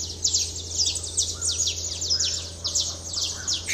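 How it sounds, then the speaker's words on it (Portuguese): Many birds chirp and twitter together at dawn on a farm, a dense and fairly close chorus of quick high calls over a low steady hum. "E olha os pássaros, escutem."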